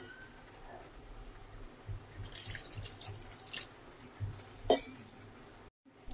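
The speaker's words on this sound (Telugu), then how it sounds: "ఇప్పుడు మనకి వాటర్ తగినంత వేసుకోవాలండి" Water poured into wheat flour batter for small fritters (bajji) in a home kitchen, heard as faint, intermittent trickles and drips with a few light clinks against a quiet background.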